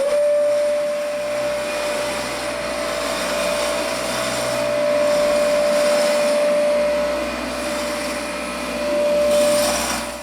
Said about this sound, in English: Prepping our floor for our second coat of polyurethane, we used a vacuum.